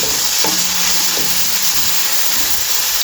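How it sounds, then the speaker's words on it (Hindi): Potatoes fry in hot oil in a pan for a mixed vegetable kadhi, making a loud, continuous broadband sizzle with a couple of soft knocks near the start. The sound is close up and there is no speech. "आलू को इसलिए पहले डाल के इसको फ्राई कर रहे हैं"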